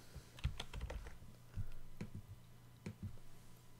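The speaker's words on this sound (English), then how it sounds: "Just type in the keywords" Quick bursts of computer keyboard typing as keywords are entered into a search box, close and moderately loud, with short pauses between clusters of keystrokes and no talking.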